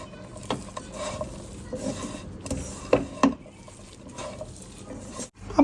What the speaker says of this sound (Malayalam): മിക്സ് ചെയ്യുന്ന കൂട്ടത്തിൽ തന്നെ നമ്മുടെ കൈ കൊണ്ട് ചെറുതായിട്ടൊന്ന് ഞെരടി കൊടുക്കുകയാണെങ്കിൽ